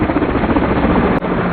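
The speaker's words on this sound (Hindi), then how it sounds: "Helicopter squad." Cartoon helicopter squad flying overhead, a loud steady rotor drone filling the whole stretch with only a brief dip near the end, no talk.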